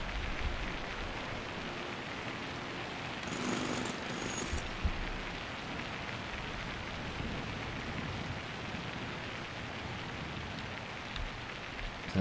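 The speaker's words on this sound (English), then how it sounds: "Sounds like it's raining, but I don't see the rain." Steady rain hisses on surfaces in the airport-building game SimAirport, a dense, even wash that runs the whole time at a constant moderate level, with a brief brighter burst early on and no talking.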